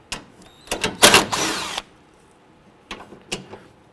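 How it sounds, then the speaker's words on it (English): A 10mm socket on a ratchet or power driver removes a radiator bolt on a 2002-07 Jeep Liberty, giving a burst of whirring mechanical noise mid-clip followed by a few short clicks and taps, close up with no talk. "Now I want to go ahead and remove this bolt here and this bolt here and repeat the same for the passenger side."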